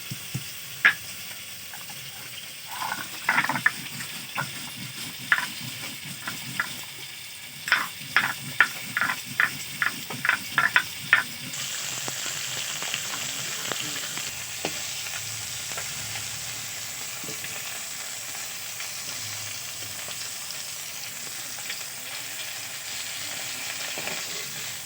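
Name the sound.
bata fish frying in oil in a pan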